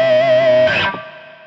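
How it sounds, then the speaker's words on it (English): An electric guitar runs through a NUX MG-300 amp model with spring reverb, a loud sustained note with a short scratchy attack near the end and then a reverb tail that fades out. "So for this amplifier, probably I will add a spring reverb."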